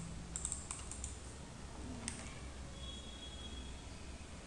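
Quiet, close clicks of a computer keyboard as a command is typed in a Linux terminal, with short bursts of keystrokes over a low background hiss.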